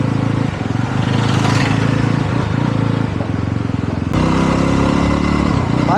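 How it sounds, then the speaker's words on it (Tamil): Steady engine drone of a 2025 Yezdi Roadster motorcycle while riding, a continuous close rumble with a slight shift in tone near the end and no talk. "வண்டி சும்மா சீருது."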